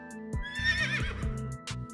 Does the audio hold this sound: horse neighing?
yes